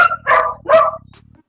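A dog lets out two loud, close barks in quick succession, followed by a faint fading tail of sound.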